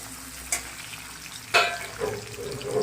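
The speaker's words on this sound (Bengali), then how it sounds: "কাজু কিশমিশটা এবার ভালো করে দিয়ে ভালো করে নাড়াচাড়া করে দিই।" Cashews, raisins, cardamom and cinnamon fry in a pan for pulao, a low sizzle with a couple of sharp scraping stirs and a watery hiss.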